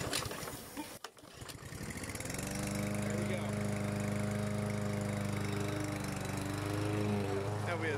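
A Briggs and Stratton lawn mower engine cranks with a brief sputter and a pull, then catches and settles into a loud, steady close-up running drone.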